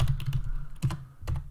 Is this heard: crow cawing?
no